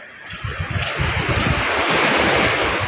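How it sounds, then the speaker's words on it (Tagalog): Ocean waves wash steadily onto the shore on an overcast morning, a continuous roar of surf mixed with wind buffeting the microphone, with no voices. "gabi-gabi na lang yung alon"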